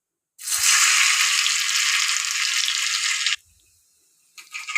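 Chopped red shallots hit hot oil with mustard seeds, bursting into a loud, steady sizzle that holds for about three seconds, then cuts off abruptly before a softer crackle returns.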